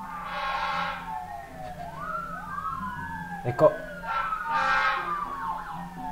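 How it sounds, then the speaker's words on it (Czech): Emergency vehicle sirens from an ambulance and fire trucks in the SimCity city-building game, with rising and falling wails overlapping at moderate volume while someone speaks over them. "Tady sanitka, tady hasiči a všechno to trvá."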